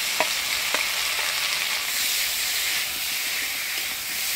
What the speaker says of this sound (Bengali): লবণ দিয়ে আলুটা একটু ভাজা ভাজা করে নিব।